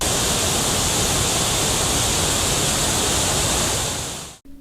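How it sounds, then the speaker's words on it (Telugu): Bogatha waterfall in Mulugu district, Telangana, swollen with rain-fed flow, gives a steady, loud, dense roar of falling water that holds for several seconds and then cuts off abruptly. "తెలంగాణ నయాగర బొగాతా జలపాతం చూడుండ్రి, పరవళ్లు దొక్కుతున్నది."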